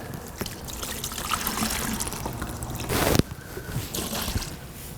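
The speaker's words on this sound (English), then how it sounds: "I'm going to try to empty out as much of this coolant as I can" Engine coolant drains from the block of a Chevy 5.7L V8, a steady liquid trickle and dribble with a brief louder gush midway, close and moderately loud.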